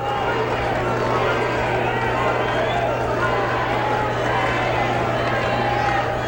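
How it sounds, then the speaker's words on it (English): Crowd noise fills a 1981 New York State high school intersectional wrestling championship final: a steady, broad roar and babble from spectators, continuous and fairly loud with no clear breaks, over a low constant hum. "Crowd becoming a little more vocal."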